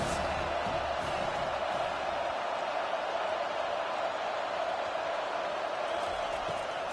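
A stadium crowd at a college football game between WKU and Miami roars steadily for the defense on a third down, a dense, unbroken wash of cheering and noise that holds at full volume throughout.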